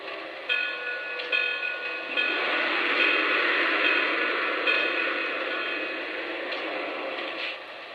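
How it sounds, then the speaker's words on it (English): A Lionel 726 Berkshire model steam locomotive rings its bell in repeated clangs over a faint steady electronic hum, fairly quiet, with no talking. "We'll take a listen for the whistle, and we'll take a listen to the bell"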